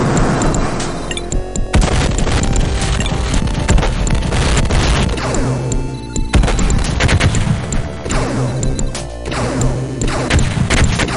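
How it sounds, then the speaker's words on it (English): Nuclear missile launch and detonation in the strategy game Dune, on the final Fremen mission: a loud, dense barrage of booms, crashes and rumbling blasts that rolls on without a break for about eleven seconds. "Nuclear missile launched."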